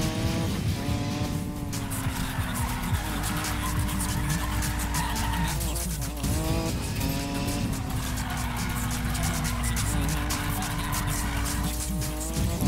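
Car drifting in the Need for Speed Payback racing game, a loud sustained engine roar with repeated wavering tire squeals through long slides, continuous throughout without talk.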